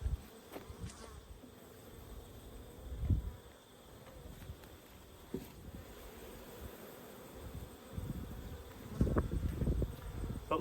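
Honey bees buzz around an opened hive on a cold day while it is being shut down for winter, a faint, steady hum broken by soft bumps and rustles of handling close to the microphone.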